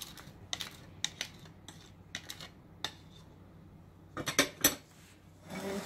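Broccoli apple salad being stirred with utensils, giving a scattering of sharp clinks and scrapes against a bowl, spaced out with a quick cluster near the end, close and fairly quiet with no talking.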